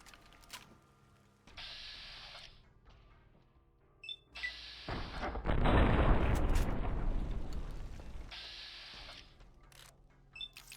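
A chain of mine explosions, set off by a grenade in Fallout: New Vegas in the Zion cave area, bursts into a loud, rumbling blast that swells for several seconds and then fades, with shorter booms before it.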